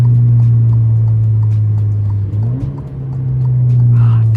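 An Alfa Romeo Giulia's engine drones loud and steady from inside the cabin, then the pitch sweeps up and drops back through a quick downshift before the drone settles again. No one speaks.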